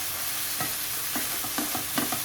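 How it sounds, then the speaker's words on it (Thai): Chinese kale and instant noodles are stir-fried in a pan: a constant close sizzle with quick, irregular scraping strokes of the spatula against the pan, and no talking. "ผัดผักคะน้าให้สุกให้หมดเลยนะครับ"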